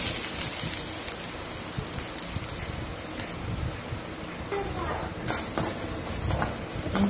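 Mustard seeds, urad dal and onion frying in a pan for kothu chapati: a steady, close hiss of sizzling with scattered sharp pops and spatters running throughout.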